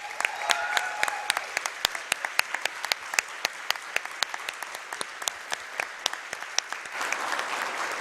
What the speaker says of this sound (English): So one more round of applause. That was amazing.